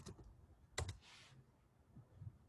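A few quick keystrokes on a computer keyboard as a command is typed in Rhino3D, close and quiet, with a sharp clustered tap followed by a softer rustle and a couple of faint clicks.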